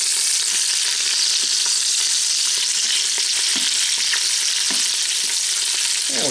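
Bratwurst browning in an Instant Pot, a loud, continuous close sizzle and crackle with a few faint clinks, steady throughout with no talk.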